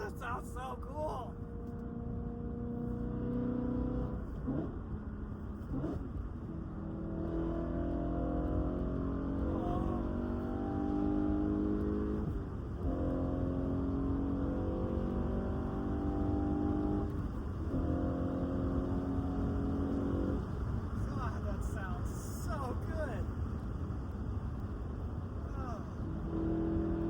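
A BMW E9X M3 V8 fitted with an Eventuri plenum and Infinity Design intake, heard from inside the car as it repeatedly revs and pulls through the gears, with a deep rising engine roar and brief shift gaps, while people talk over it.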